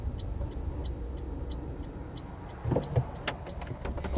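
Mia Electric city car accelerating up a hill, a steady low motor and road rumble inside the cabin with faint whine, a few louder bumps and knocks near the end.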